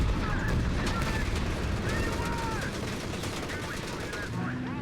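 Gunfire at a Panzer tank in Company of Heroes 3, a dense, continuous battle din of rapid shots and rumbling explosions with shrill whistling effects layered throughout.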